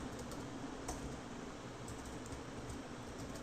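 Code being typed on a computer keyboard, quiet quick key clicks in an irregular run over a faint hiss, soft and close.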